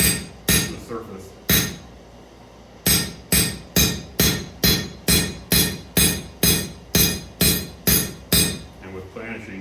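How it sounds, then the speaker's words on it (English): A blacksmith planishes metal with a hammer, striking about sixteen sharp, ringing blows in a steady, even rhythm after a few scattered opening hits, each loud and close with a short metallic decay. "And with planishing, you can get a very, very nice finish if you're patient enough."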